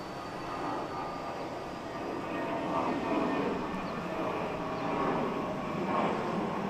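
An American Airlines Airbus A319 jet at Boston Logan International Airport produces a continuous distant roar with gentle rises and falls in loudness, with no clear voices over it.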